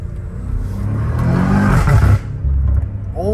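BMW M5 Competition accelerating hard, engine and turbos roaring close by with a rising drone, a brief break around a gear shift, then pulling again.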